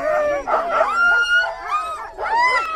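A sled dog team barks, yips and howls before a race, overlapping excited calls rising and falling close by in bursts, loud and dense with brief dips between volleys.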